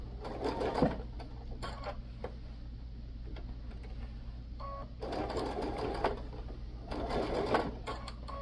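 A sewing machine runs a few stitches along pillowcase seams in short bursts of rapid mechanical ticking, with quiet pauses between runs, close and fairly soft over a low steady hum.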